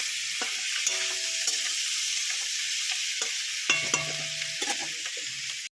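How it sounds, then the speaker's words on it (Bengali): Onions fry with salt and turmeric in a pan, giving an even, close sizzle broken by occasional taps and scrapes of stirring. "ওদিকে বসিয়েছি আমি হচ্ছে পেঁয়াজ কালি ভাজা, নুন হলুদ দিয়ে ভাজা হচ্ছে।"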